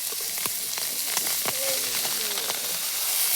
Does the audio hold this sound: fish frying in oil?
yes